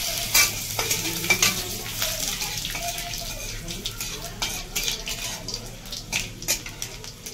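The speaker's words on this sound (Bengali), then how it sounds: "আমি একটা তেজপাতা, একটা কাঁচা লঙ্কা ফোড়ন দিচ্ছি আর রাঁধুনি ফোড়ন দিচ্ছি" Bay leaf, green chilli and radhuni seeds tempering in hot oil, a steady close sizzle and crackle with sharp spitting pops and occasional stirring clinks, alone throughout.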